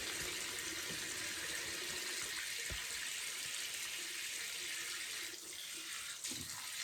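Water runs steadily from a tap with a constant hiss and splash, fairly close, with faint clunks underneath.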